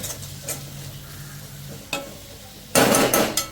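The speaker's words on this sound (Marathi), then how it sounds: "आता त्यात आपण किसलेलं ते खोबरं होतं ना भाजलेलं मिक्सरला वाटून, ते व्यवस्थित असं फ्राय करून घेऊया." Grated coconut, roasted and ground beforehand, being stirred and fried in a pan, with scraping strokes and bursts of sizzling toward the end; no talking.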